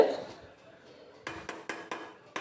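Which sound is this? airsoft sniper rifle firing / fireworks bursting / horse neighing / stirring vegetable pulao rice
stirring vegetable pulao rice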